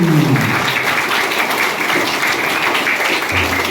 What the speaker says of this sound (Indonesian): tepuk tangan untuk kita semua yang masuk di sini